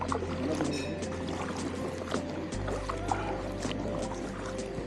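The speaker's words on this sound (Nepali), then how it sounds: "यता आयो तपाईँको डुङ्गा" A rowboat moving across Phewa Lake in Pokhara, with a steady low engine or motor hum and light splashing, plus faint voices in the background.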